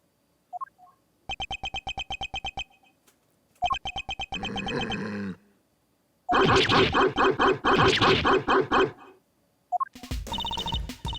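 Small dog yapping in the Ace Attorney Investigations 2 video game, rendered as repeated bursts of rapid, synthetic, tone-like barks with a bell-like ring, separated by short gaps, loud and up front.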